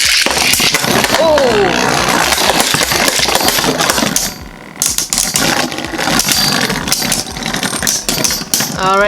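Beyblade Burst spinning tops, including an Ace Dragon combo, battle loudly in a plastic stadium, grinding and clattering with sharp metallic clicks as they clip the walls. A brief exclamation cuts through close up.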